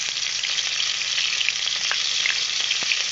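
Two bay leaves fry alongside onion in hot oil in a wok, giving a continuous close sizzle with scattered pops and crackles and no talking.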